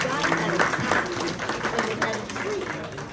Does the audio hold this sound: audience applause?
yes